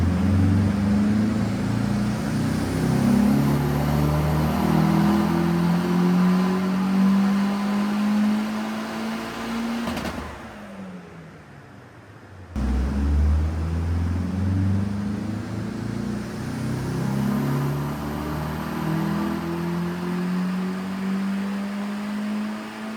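A Nissan 200SX S13 engine on a dyno revs up hard again and again toward a 7,300 RPM limiter, rising in pitch with each sweep, briefly dropping away in the middle before climbing once more.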